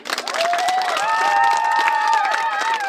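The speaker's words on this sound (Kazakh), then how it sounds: "Қол шапалақ ұрып қояйық қане" An audience at a youth wedding celebration bursts into applause and cheering after a performance, close and lively, with a shouted voice and a rising tonal call riding over the clapping.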